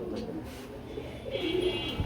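A pigeon coos softly and briefly over a steady background hum, close by and fairly quiet.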